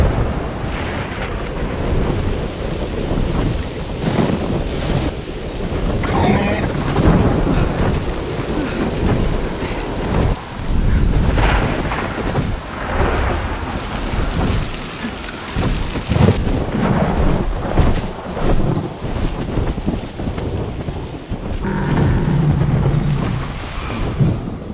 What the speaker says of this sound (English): maybe we shouldn't fly. It's like raining.